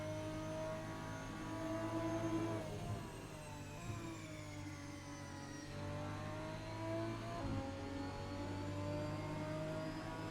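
Race cars work through a tight hairpin, their engines dropping in pitch as they brake, then rising again as they accelerate away, a steady moderate whine with no voices.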